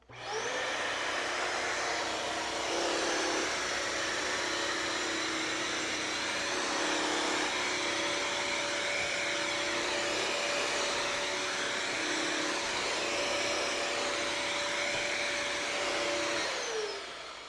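A Bissell CrossWave HydroSteam wet-dry vacuum drones loudly and steadily as it cleans a floor, with a continuous motor whine and suction roar that starts and stops cleanly around the long run.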